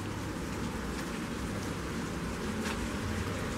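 Steady rain pours down outdoors, soaking everything, a dense and unbroken hiss of drops with no pauses and no voices.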